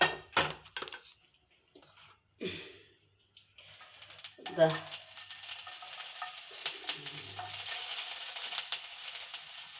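Small onions drop into hot oil for onion dosa and catch a crackling sizzle that builds steadily after someone speaks over a few clinks of utensils.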